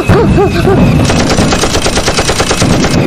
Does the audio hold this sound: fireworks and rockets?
yes